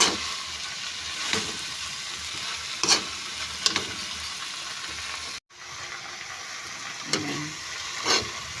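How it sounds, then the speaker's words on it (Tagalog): Cabbage sautéing with sardines in a pan, a steady bright sizzle with several stirring scrapes and clatters at irregular moments and a short dropout midway. "May ginisang repolyo na may sahog na sardinas."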